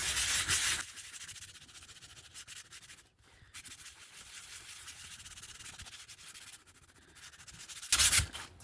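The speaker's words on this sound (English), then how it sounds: "I'm going to do some sanding." Steady abrasive rubbing of sandpaper across the glossy cover of a board book, close and continuous, with louder scraping bursts at the start and end and a brief pause midway.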